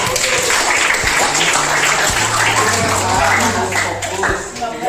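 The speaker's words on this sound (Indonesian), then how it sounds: "Tepuk tangan untuk kalian semua." Students applaud in a classroom during a math lesson, loud continuous clapping close by for several seconds, with voices mixed in.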